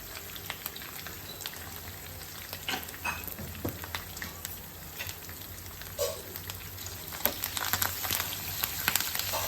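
Crushed garlic and turmeric crackle and sizzle in hot oil as a tempering for pickle, a steady close spattering with scattered sharp pops, heard alone.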